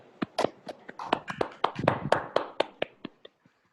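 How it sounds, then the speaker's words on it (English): Sparse, uneven hand claps from a few online meeting participants after a session, about fifteen distinct claps in loose rhythm that thin out and stop, close and fairly clear with no talking. "give a big round of applause to our TMOD and all the role players"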